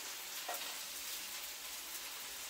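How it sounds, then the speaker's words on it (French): Onions frying in a pan give off a steady, even sizzling hiss, close and moderately loud, with one small crackle near the start and no voices. "On met les oignons comme ça"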